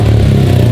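Loud, close motorcycle engine running with a Remus aftermarket exhaust, a dense low throbbing drone in a very short burst with no talk.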